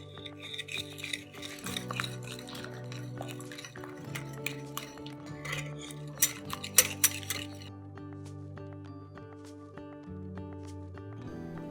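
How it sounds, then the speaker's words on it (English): Eggs, sugar and honey are mixed together in a bowl, giving irregular close clinks and scraping taps of a utensil against the bowl that grow busier, then fade to quieter, sparse knocks. "I'll mix the eggs, sugar, and honey together"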